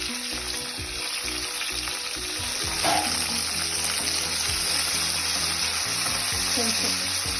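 Onions and green chillies with curry leaves sizzle steadily in hot oil, a loud, continuous crackling fry with occasional stirring and no talk.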